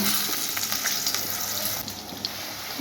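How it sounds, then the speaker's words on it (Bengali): Potatoes fry in hot oil after a cumin tempering, giving a steady close sizzle with a faint hiss and light stirring, no voices. "এবার আলুগুলো দিয়ে একটু ভেজে নেব"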